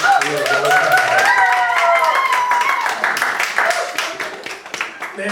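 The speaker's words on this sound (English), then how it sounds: "The more you applaud right now, the deeper they go" Audience applause at a holiday hypnosis show in a house party setting: a dense, steady patter of clapping hands throughout, mixed with voices and tonal music.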